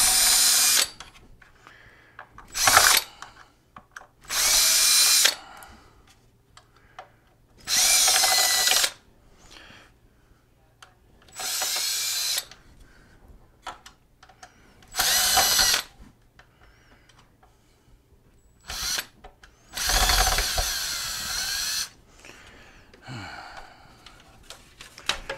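A power drill or driver backs screws out of the handle of a soiled Pride Mobility Go Go Sport three-wheel mobility scooter during cleaning, in several loud, close bursts of whirring spaced by quiet pauses.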